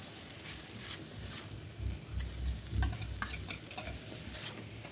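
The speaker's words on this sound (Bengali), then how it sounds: "এবার সব কিছু খুব ভালো করে মিশিয়ে নিতে হবে" Quiet sizzling with rhythmic scraping and clinks of a utensil against a pan as chow mein noodles with egg are tossed and stirred, fairly close.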